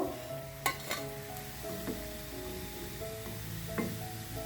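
Chana dal and dill fritters deep frying in hot oil, a steady soft sizzle with occasional sharper crackles and light clinks from a utensil stirring.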